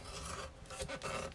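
A scoring tool drags along a crease line in cardstock for a candy box, a brief faint scraping rasp lasting about a second, close and quiet.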